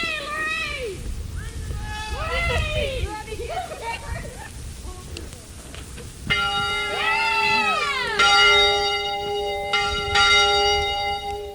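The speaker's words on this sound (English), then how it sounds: "The bell in the Episcopal Church in Anvik as Larry Cowboy Smith checked in last night." The bell of the Episcopal Church in Anvik, Alaska, rings out in repeated resonant strikes whose tones overlap and linger, heard over outdoor ambience and wind noise, with the ringing growing fuller toward the end.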